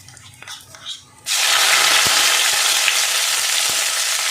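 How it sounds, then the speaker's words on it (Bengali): Ginger paste hits hot oil with asafoetida in a vegetarian dish, and a loud, steady sizzle bursts up after a quiet second of soft talk and clinking, then holds evenly to the end. "এবার দিয়ে দেবো আদা বাটা।"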